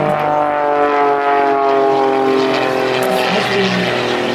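Aerobatic propeller plane built in 1981 for the Australian Aerobatic team flies at the Clacton air show, its engine giving a loud, sustained droning buzz with slight pitch shifts as it passes.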